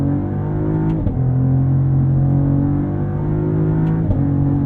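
A 2023 Cadillac CT4-V Blackwing's engine holds a loud, steady drone from inside the cabin, its pitch climbing, dipping briefly at a gear change and climbing again toward redline, with a second short drop near the end.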